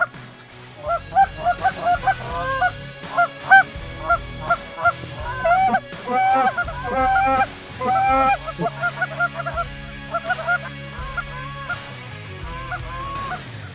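Canada geese honking as they fly in over standing corn during a waterfowl hunt, a loud, close series of repeated nasal honks in irregular bursts, several birds calling over one another.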